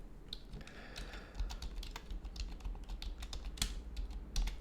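Fingers tap a computer keyboard while entering text into a spreadsheet cell, producing quiet, irregular clicks with a few sharper keystrokes over a soft room hiss.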